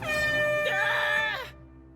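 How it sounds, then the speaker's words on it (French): A military-school style air horn blasts once, loud and close, a brassy tonal blare lasting about a second over a low background hum, then cutting off abruptly. "va me chercher le klaxon"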